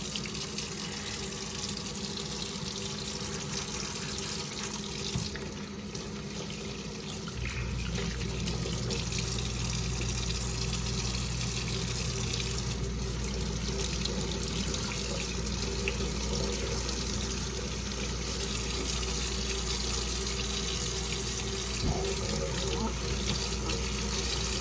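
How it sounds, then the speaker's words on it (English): Tap water runs steadily into a sink while salvaged parts from an abandoned beehive are rinsed under it, a continuous close splashing rush that thickens and grows louder partway through. "give it a good rinse and see how it turned out"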